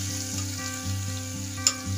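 Ginger garlic paste frying in oil for a mutton kachori filling, a sizzle under a steady low hum with one brief clatter near the end, close and without talk.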